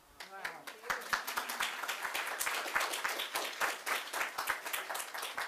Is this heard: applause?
yes